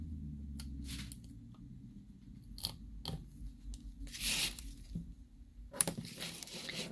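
Double-sided tape is torn and pressed onto a handmade greeting card, giving several short, close crackling rips and tears over a quiet, low background hum.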